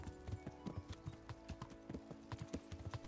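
Horse hooves clip-clop in a steady, quick rhythm in the medieval video game Kingdom Come: Deliverance, moderately close, with a faint whinny-like texture and game ambience beneath.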